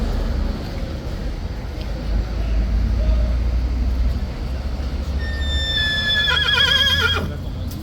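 A loud, shrill horse neigh with a wavering, trilling pitch rises near the end, over steady background rumble and faint voices.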